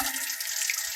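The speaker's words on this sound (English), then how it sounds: "I'm just gonna rinse some of the butter off my hands here" A steady hiss of running tap water, close and even, as buttery hands are rinsed under a kitchen faucet.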